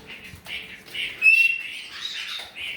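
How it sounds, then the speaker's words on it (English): A pet chicken of the Skittle variety squawks and chirps in short, close calls, several bursts in a row with quiet gaps, heard alone. "You are such a funny little bird."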